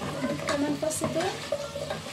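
A garlic clove with ground cumin, coriander, black pepper and bay leaf sautéing in a pan, a short sizzle broken by stirring scrapes and soft clinks.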